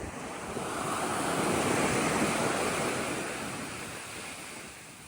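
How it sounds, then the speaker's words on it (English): Ocean surf rolls onto a beach as the tide comes in, a broad steady wash of breaking waves that swells louder and then slowly recedes, with wind across the microphone. "Tide has turned, it's starting to come in now. Hence the surf getting closer and closer together."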